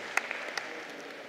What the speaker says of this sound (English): And the very loud claps you heard